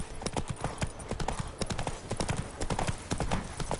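Roach, a horse in The Witcher 3, gallops with rapid, rhythmic hoofbeats that pound steadily and close throughout, forming a dense, driving clatter.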